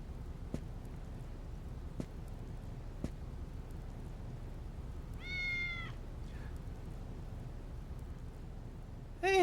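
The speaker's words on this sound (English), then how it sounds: "Hey, it's the cat." A cat meows once in the Digital Devil Saga video game, a short bright call midway through, over a quiet steady ambient background with a few faint ticks and another brief cry right at the end.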